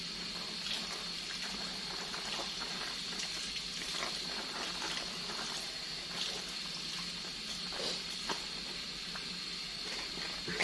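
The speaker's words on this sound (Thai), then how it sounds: "เดี๋ยวเราจะมาล้างรากกันสักหน่อย" Water running steadily over the roots of a caladium plant as they are washed, a faint continuous splashing flow with small irregular drips, no talking.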